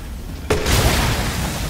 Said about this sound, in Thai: ยิงลูกระเบิดแล้วก็ยิงระเบิดแสง